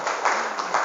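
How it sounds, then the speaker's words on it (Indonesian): Audience applause for a teacher at a motivational seminar for teachers at SMA Al Islam Krian, East Java, a brief, steady burst of many hands clapping with no pause. "Tepuk tangan buat beliau."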